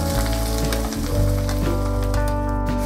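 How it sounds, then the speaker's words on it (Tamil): Onion, curry leaves, garlic and ginger sautéing in a little oil for mudakathan keerai kulambu, a loud continuous close sizzle with stirring scrapes over it, no voices. "இப்போ கொஞ்சமாக எண்ணெய் ஊற்றி இந்த வெங்காயம் இருக்கு இல்லைங்களா, வெங்காயமும் கருவேப்பிலையும் வதக்கிறோம்."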